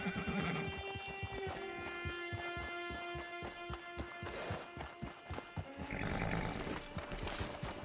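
Hooves clip-clop steadily on the ground as a horse moves in Red Dead Redemption 2, with a snort or whinny near the start and a brief burst near the end over a constant musical backdrop.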